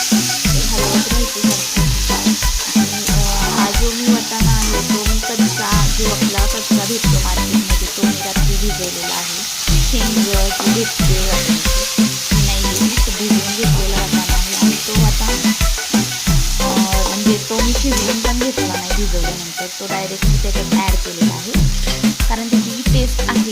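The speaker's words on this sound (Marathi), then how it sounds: "आणि हे आता चांगलं हलवून घ्यायचं कारण वाटाणा चांगला आपल्याला तळून घ्यायचा आहे" Green peas frying in oil in a pan while being stirred for a Maharashtrian matar usal, a steady loud sizzle with scraping stir strokes throughout, no talking.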